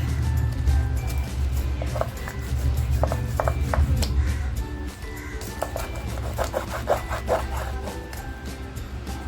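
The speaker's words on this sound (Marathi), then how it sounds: "पातळ असे सगळे पीस मी कापून घेते अगोदर" A knife slices ravas fish (Indian salmon) into thin pieces, with a series of close, soft cutting and scraping strokes in irregular bursts over a low background hum.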